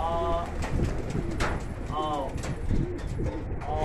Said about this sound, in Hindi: नया कबूतर है